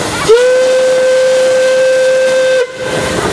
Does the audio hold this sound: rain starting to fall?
no